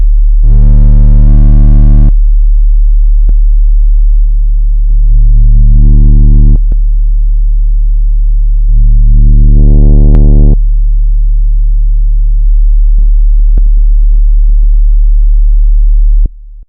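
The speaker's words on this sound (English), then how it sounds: "Let me quickly demonstrate the different options on a sine wave." Sine wave test tones played through a free audio utility plugin in Ableton, steady loud pure tones shifting through several settings with brief clicks between changes, no voices.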